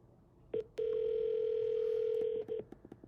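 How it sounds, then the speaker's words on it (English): Vintage business telephones ringing together on an incoming call: a steady electronic tone that holds for about two seconds after a short blip, set against a quiet room. "You can see they're both ringing."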